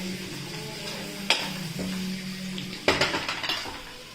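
Chopped onions go into a pan of ginger-garlic base for homemade biryani, giving a faint steady sizzle with a couple of sharp clinks of a utensil against the pan, no voices.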